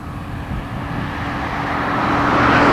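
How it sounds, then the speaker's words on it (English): Distant cars out on a ranch make a broad, steady road rumble that slowly swells louder, with no nearby talk. "You hear the cars in the background"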